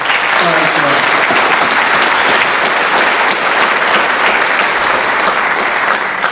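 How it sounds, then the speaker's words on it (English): Loud, sustained applause from an audience at a police department awards ceremony in Vacaville, steady clapping filling the whole stretch with no break. "Let's have a round of applause for that."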